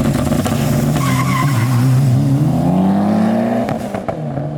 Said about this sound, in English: number 10 is gonna have to be launching the car